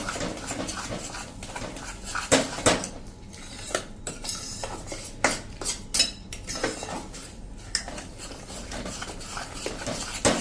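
A spoon stirs cashews, almonds and sesame seeds as they roast in a pan over a low flame. The scraping and clinking is continuous and close, with irregular sharp metallic knocks throughout and no talking.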